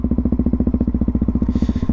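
A Yamaha MT03 660 single-cylinder motorcycle with an aftermarket exhaust and no baffle, a loud, close, rapid regular thumping that pulses evenly for the whole stretch.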